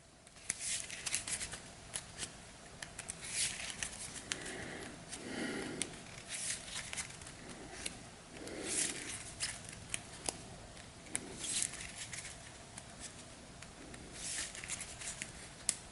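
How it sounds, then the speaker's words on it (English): Hero Realms game cards being shuffled by hand, a steady papery riffle and slide that comes in repeated bursts over quiet room tone, with no talking. "we'll shuffle all of this up"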